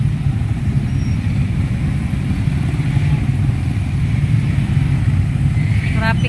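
Christmas traffic of cars and motorcycles on the road to Daet runs as a constant mid-distance engine drone, with a faint revving motorcycle and a brief high chirp near the end.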